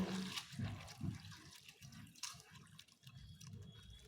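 Flattened rice (chira) being washed by hand in a bowl of water, with soft repeated sloshing and dripping at close range, quiet and steady with no talking.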